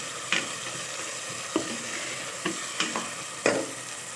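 Chicken meat being stirred and fried in a pot, with a soft continuous sizzle broken by several sharp scraping clacks of the spoon against the pot, fairly quiet with no talking.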